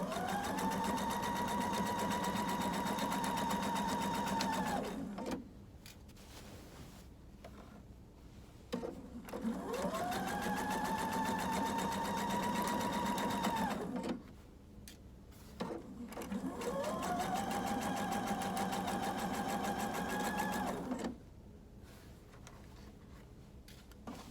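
A sewing machine stitching an inner leg seam: three runs of rapid mechanical whirring, each about five seconds long, separated by short pauses with faint handling sounds, close and steady.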